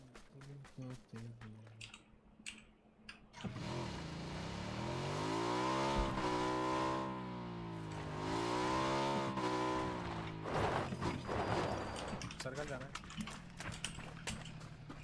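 Motorbike engine in the PUBG battle royale game, revving up and holding a steady, wavering drone for several seconds under voices talking, with sharper game noises around it.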